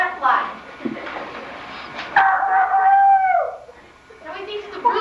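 A voice imitates a rooster's crow with one long, drawn-out call, sandwiched between bits of talk.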